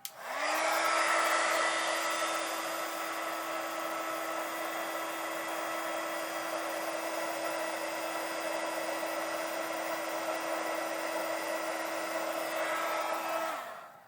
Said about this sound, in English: hold your ears for 1 minute and we'll heat this one up.